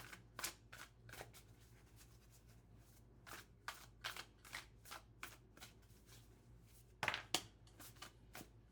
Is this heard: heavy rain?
no